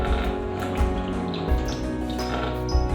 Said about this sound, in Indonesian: kita nyalakan keran air